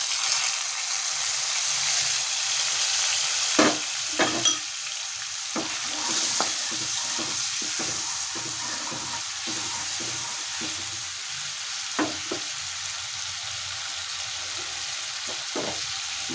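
A paste of ground turmeric, chili, cumin and coriander fries in a pan for a cauliflower curry, a steady close sizzle broken by occasional spoon clinks and stirring scrapes.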